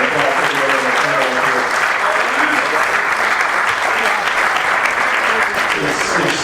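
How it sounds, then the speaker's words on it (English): Sustained, loud audience applause for a panel at an event, dense clapping holding evenly for several seconds with no speech over it. "We'd like to give a round of applause for everyone on the panel."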